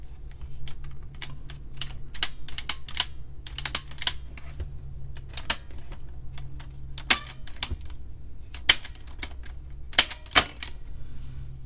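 Small plastic parts click and snap while an Atari 410 cassette recorder is reassembled, a scattered series of sharp close clicks and taps of varying loudness over a low steady hum.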